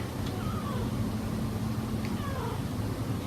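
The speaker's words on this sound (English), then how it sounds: "That was a nice meow." A cat meows twice in quick succession over a steady background hum, the calls fairly faint and thin against the constant noise.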